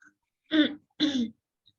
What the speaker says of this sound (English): Sorry, I have dry cough today.